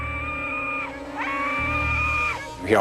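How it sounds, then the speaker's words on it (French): Long sustained cries rise and hold, then break off and start again, loud and close. Distressed people are screaming as streaks of flame rush toward guests, and the screams end in a sharp rising burst. "On entend des cris."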